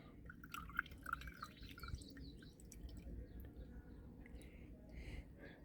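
Quiet liquid trickles and drips faintly, a soft, steady pour with small splashes and no voices.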